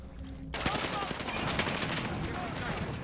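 Rapid automatic gunfire erupts suddenly in a shooter game after a quiet moment, then continues as a loud, dense rattle of shots with a voice talking faintly underneath.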